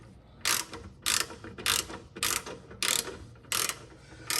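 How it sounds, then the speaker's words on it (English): Socket ratchet working frame bolts on a Ford Explorer ST during a rear differential brace install, giving seven evenly spaced bursts of close, crisp clicking, alone. "I need to back this out just a little bit so I can get my socket on here."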